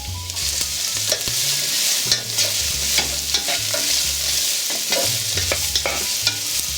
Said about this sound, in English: Once your oil is nice and hot, you can add your bowl of peppers, onions, and celery.